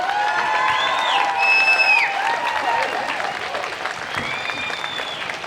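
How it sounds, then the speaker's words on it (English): An outdoor crowd at a March For Life rally in Brisbane claps steadily, with scattered cheers and whoops over continuous applause that swells early and gradually eases. "let's give another round of applause for Jo again."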